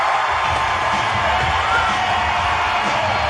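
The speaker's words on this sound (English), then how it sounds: "Listen to that crowd." A wrestling arena crowd roars through the NWO entrance, a loud, sustained wall of cheering with whoops and shouts blending into a continuous, dense din.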